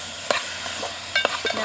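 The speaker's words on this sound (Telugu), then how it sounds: "అప్పుడు ఇలా కలిపి మొత్తం అంతా కలిసేలా కలపాలి" Onions, tomatoes and green chillies frying in oil in a pan are stirred with a few quick scraping strokes over a soft sizzle, close and alone.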